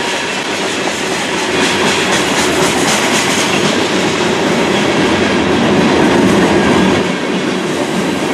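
A CN freight train hauled by locomotives 8947, 5798 and 5632 rumbles past up close at night in Sarnia. The loud, steady roar has rhythmic clickety-clack from the wheels and no voices.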